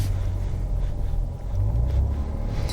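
A 2023 Grand Wagoneer L pulling away in drive, heard from inside as a steady, low, smooth engine and road rumble with no talking.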